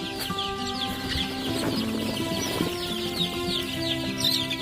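Several thirsty chickens cluck and murmur together at close range as vaccine water is given, with a few sharper squawks near the end.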